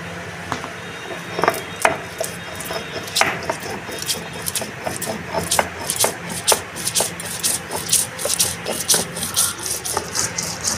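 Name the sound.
grinding mustard seeds with salt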